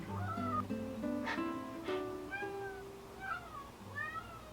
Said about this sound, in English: my roommate's cat needs to come in my room